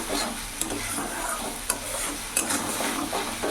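Tilapia fish frying in oil in a pan with chilli paste, a steady close sizzle broken by a few sharp clinks and scrapes of stirring.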